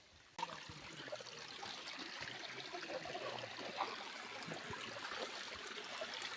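A weak trickle of water runs steadily in a secluded spot at the foot of a mountain, a soft continuous babbling close by that starts abruptly and carries on without pause.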